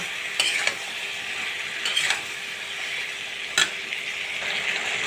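Chili, turmeric, cumin and coriander powders fry and sizzle steadily in a pan, with a few brief scraping stirs of a utensil at intervals and no talking.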